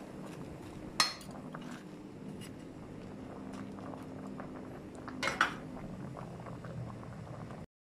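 A metal lid is set onto a cooking pot of simmering pork sinigang with taro, cabbage and pechay: two sharp clinks, the second a rattling double clank, over a soft steady bubbling of boiling broth.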